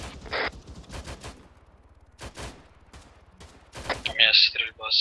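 Gunfire in the Arma 3 military video game rings out as scattered single shots and quick bursts at mid distance, mixed with radio-style talk and a louder crackling burst near the end.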